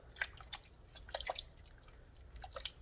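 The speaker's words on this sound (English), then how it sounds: "And I'm going to stir this all around together." Meaty spaghetti sauce with vinegar being stirred in a pot, giving irregular wet squelches and drippy splashes, close and fairly quiet.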